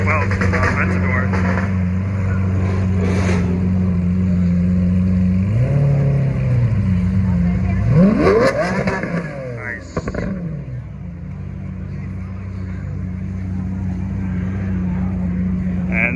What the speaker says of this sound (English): There they go. Couple Mustangs.